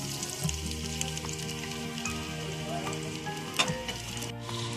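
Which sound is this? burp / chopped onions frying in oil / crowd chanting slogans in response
chopped onions frying in oil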